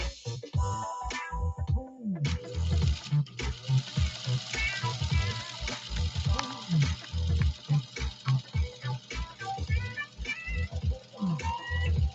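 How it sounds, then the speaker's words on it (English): A Singer sewing machine motor runs with a busy, continuous mechanical whir and rhythmic clatter, steady and close throughout. "whenever you're running a sewing machine like this, whether you're doing a bypass or otherwise"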